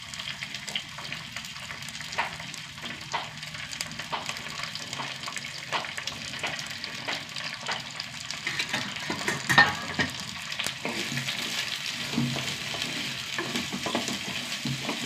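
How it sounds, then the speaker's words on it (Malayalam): Finely chopped bitter gourd sautés with onion in a pan, giving a faint, steady sizzle with scattered light clicks of stirring throughout. "കയ്പയ്ക്ക നന്നായി വഴണ്ട് വരട്ടെ."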